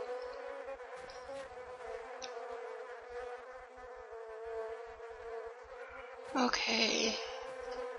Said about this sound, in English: I can't handle those bees. They annoy the crap out of me. I hate bees. They're so loud.